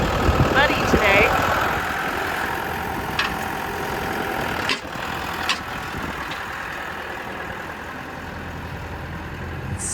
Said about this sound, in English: seemed like a good enough time to get the excavator out, test it out for the first time, see what if it even started and ran and worked